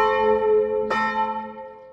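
A church bell, one of the bronze bells of San Paterniano, rings with a sustained humming resonance, and a second strike lands midway before the tone slowly fades.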